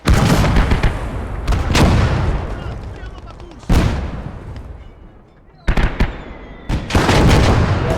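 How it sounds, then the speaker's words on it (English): Mortar strike in the World War II game Blood Red Snow: loud, heavy explosions boom in bursts, one rumbling blast following another with brief gaps between impacts. "we're just going to call a mortar strike on that"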